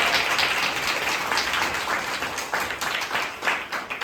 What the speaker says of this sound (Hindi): तो उनके लिए एक बार तालियां बजाएं अपने सैनिकों के लिए।